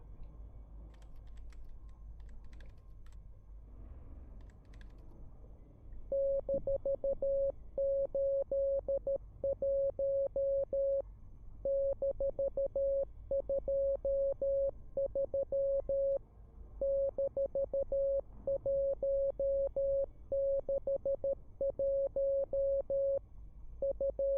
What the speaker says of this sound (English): that was some Morse code